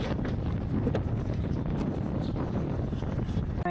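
Steady wind buffeting a microphone, a constant low rumble and roar with no pauses and no talking.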